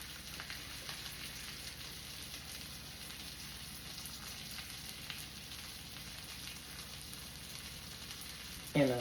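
A ribeye steak sizzling in a pan, a soft, even crackle that runs steadily throughout, faint and close, ending with a brief louder clatter at the very end.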